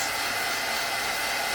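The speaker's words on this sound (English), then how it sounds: "I just used my heat tool." A craft heat tool blows continuously while drying baby-oil-soaked vellum paper for junk journals, a steady close whooshing roar of hot air with no breaks and no talking.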